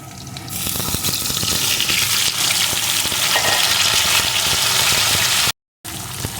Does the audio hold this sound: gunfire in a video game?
no